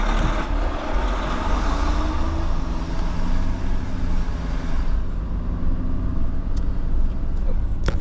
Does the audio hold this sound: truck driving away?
yes